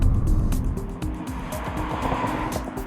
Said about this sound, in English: I'm driving is the Bridgestone Potenza RE-71R, and even among this group, it's stiff and it's loud.